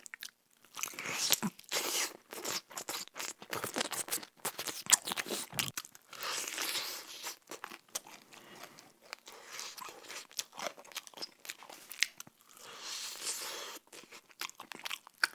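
Fried KFC chicken gets bitten and chewed close to the mic, with repeated crisp crunches and wet chewing in irregular bursts and short pauses, no talking.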